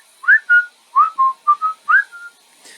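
A single person whistles a tune, clear and close, in short paired phrases of rising and held notes with pauses between.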